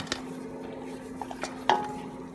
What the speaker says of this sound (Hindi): पतीले में ये मैं चर्बी सारी नीचे डालूंगी